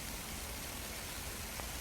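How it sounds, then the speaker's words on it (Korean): Rain coming down steadily on a freshly planted field of cabbage seedlings, a soft, even hiss of drops with no distinct impacts and no voices. "그냥 비가 쫙 내리네"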